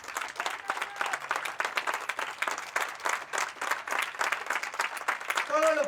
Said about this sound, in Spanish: Dale palmas al Rey de Reyes y Señor de Señores.